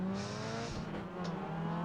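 Sim race car in iRacing, a C-class Solstice or MX-5, holding a steady high-revving engine note at the start line, loud and close, with a brief dip partway through before it climbs back up.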